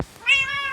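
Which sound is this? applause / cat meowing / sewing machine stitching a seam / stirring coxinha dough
cat meowing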